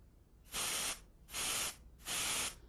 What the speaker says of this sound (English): a lot of air is heard escaping